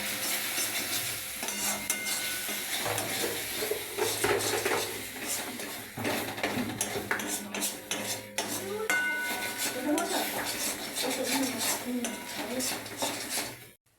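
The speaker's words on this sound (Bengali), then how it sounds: "ধনে গুঁড়ো, জিরে গুঁড়ো, মিক্স মশলা সব দিয়ে এবার নাড়াচাড়া করতে হবে।" Coriander, cumin and mixed spice powders being stirred in a pan with a utensil, steady scraping and clinking over a soft sizzle throughout, with faint background noise and no clear talk.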